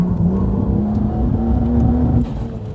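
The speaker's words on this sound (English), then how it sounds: "Hear the car misfiring?" A race car's engine under aggressive full throttle with a misfire, a loud, close, continuous drone that holds its pitch, then eases slightly near the end.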